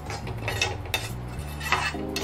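Semolina (rava) being dry-roasted and stirred in a hot pan over a low flame for rava laddu, with repeated scraping and light metallic clinks of a spoon against the pan, fairly close.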